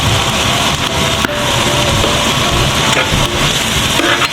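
Onion and black pepper frying in a pan for black mussel tinola, a steady close sizzle and crackle running without a break under faint stirring, with no voices.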